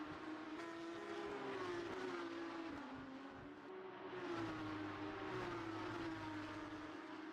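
Porsche 992 GT3 race cars lapping the Valencia Street Circuit in a racing video game, a continuous close engine drone rising and falling in pitch through gear changes and corners, with no pauses.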